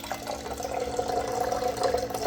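Water runs steadily through a Stokk countertop water filter, a continuous close-up splashing flow with no pauses and no talking.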